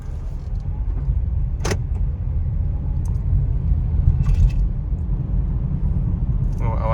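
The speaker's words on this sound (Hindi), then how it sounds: "आवाज़ से ऐसा लग रहा है जैसे मैं एक्चुअल में ईवी ही चला रहा हूँ।" A Toyota Hyryder Hybrid G drives almost silently, like an electric vehicle. A steady low road rumble fills the cabin, with a few brief higher clicks and rustles over it.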